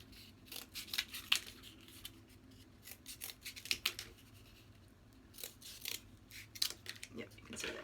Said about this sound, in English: I'm going to cut it into just smaller pieces.